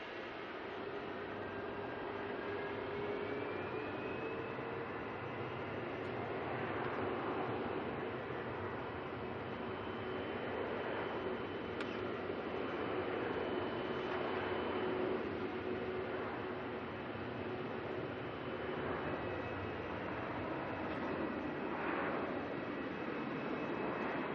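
A Boeing 737-700 jet at Melbourne Airport, a continuous distant engine roar with a slowly shifting whine, steady and fairly faint across the whole stretch with no talk.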